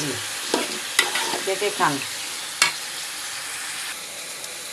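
Bottle gourd frying in a pan with egg added, heard as a few sharp stirring scrapes and soft sizzling bursts. A short spoken remark comes between them.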